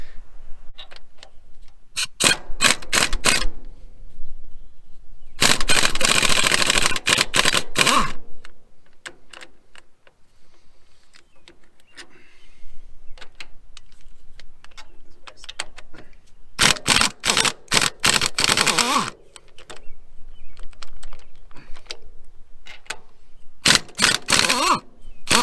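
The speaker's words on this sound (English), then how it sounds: "To take this thing off, it looks like you just got to take these 4 bolts out." Bolts removed from the brush cage of a Cat D4 dozer with a power tool, loud rattling hammering bursts separated by quieter gaps, several distinct runs up close.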